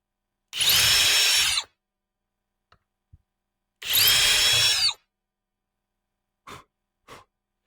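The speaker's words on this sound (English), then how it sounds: "I'm using a self-centering drill bit for the hinges to make sure the holes are in the middle." A power drill with a self-centering bit bores hinge holes in wood in two bursts of about a second each, a high whining whir close up, followed by a few faint clicks.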